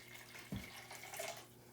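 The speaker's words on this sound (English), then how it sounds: "I'm going to pour the very warm water in here." Very warm water poured into a container while mixing Caffenol film developer, a faint, brief liquid splash and trickle over a low steady background hum.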